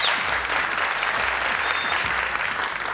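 A studio audience applauds on a Family Feud-style television game show, steady dense clapping that holds evenly loud throughout with no pause.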